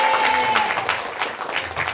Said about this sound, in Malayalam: കയ്യടി കയ്യടി,